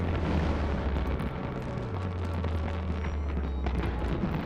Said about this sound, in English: Oh, he's shooting fireworks.